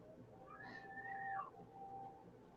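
A house cat meowing, one drawn-out, rising and falling close meow followed by a fainter trailing cry, over a quiet indoor background.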